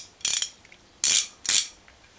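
Three quick bursts of rapid clicking from the ratchet end of a 19mm Powerbuilt spanner wrench, close and crisp with short pauses between them.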